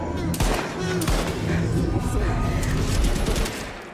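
Rapid gunfire in the video game Daymare: 1994 Sandcastle, dense overlapping shots and bursts filling the whole stretch, loud and close, with a voice speaking underneath.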